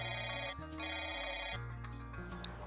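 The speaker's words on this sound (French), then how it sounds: "elle retrouva sa gaieté quand le téléphone sonna" A telephone rings with a loud, steady electronic tone that pauses briefly and resumes, close and alone with no voices.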